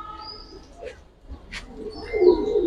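Homer pigeons at a pigeon farm give a few soft coos and brief chirps, growing louder toward the end, with light rustling and no speech.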